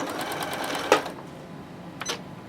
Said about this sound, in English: Okay, then I'm going to back stitch.